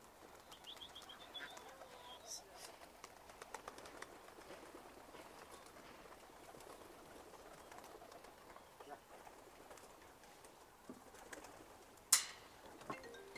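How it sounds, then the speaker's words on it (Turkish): Tumbler pigeons coo at feeding time, soft and faint throughout, with scattered wing flutters, a sharp clack near the end, and someone talking occasionally in the background. "Kuşların yem saati ya, durmuyorlar."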